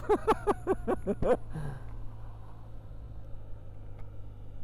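2025 BMW R12 G/S boxer twin motorcycle slowing down. A run of loud, rapid burbling exhaust pops from the engine quickly fades into a low, steady idle-like rumble with road and wind noise.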